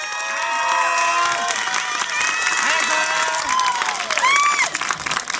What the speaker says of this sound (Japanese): 大きな拍手声援ありがとうございました。